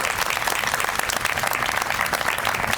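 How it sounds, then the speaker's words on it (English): An audience at a public library's grand reopening ceremony gives a dense, even round of applause, close and continuous throughout. "If we can give them another round of applause"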